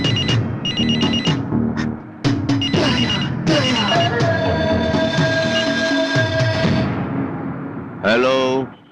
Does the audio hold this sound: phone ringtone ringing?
yes